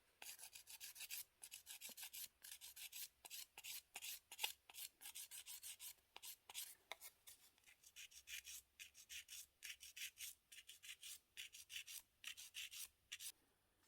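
A nail file rasps back and forth over cured gel polish to smooth the colour boundary on a nail, a steady run of short, quiet rubbing strokes in quick rhythm with brief gaps, close up and without voices.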